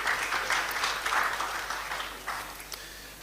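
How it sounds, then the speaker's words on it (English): Audience applause at Kasapreko PLC's official listing ceremony on the Ghana Stock Exchange, a steady wash of many hands clapping that holds for a few seconds and then slowly thins. "I think we should give them a big round of applause"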